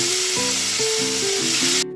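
Bitter gourd and pumpkin pieces go into a hot pan and set off a loud, steady sizzle with background music over it. The hiss cuts off abruptly near the end.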